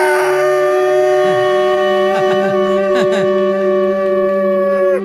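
A man imitates a dog howling, one long sustained wavering howl with a rising yip-like break partway through, loud and close with no other sounds.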